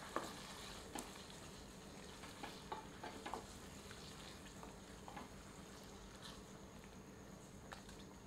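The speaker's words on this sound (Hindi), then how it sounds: "करछी चलाकर सबको अच्छे से मिलाते हैं।" A ladle stirs a Kashmiri-style yogurt mutton curry in a pot, giving a steady soft sizzle with faint scraping strokes and occasional light clinks throughout.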